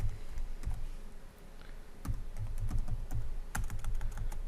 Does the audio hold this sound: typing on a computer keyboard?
yes